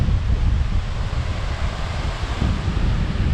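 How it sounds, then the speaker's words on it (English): Strong storm wind roars over the ocean with crashing surf, a dense, loud, continuous rush buffeting the microphone with no pauses. "hopefully the storm doesn't do any damage"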